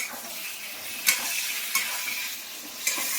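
Green chillies and tomatoes fry with green banana in a pan for a fresh fish curry, making a constant close sizzle broken by three brief stirring scrapes, with no voices.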